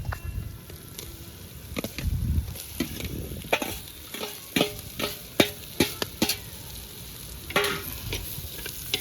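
Marinated prawns frying with onion, tomato and gongura (sorrel leaves), stirred in the pan with a series of sharp scraping strokes over a steady close sizzle, no talking.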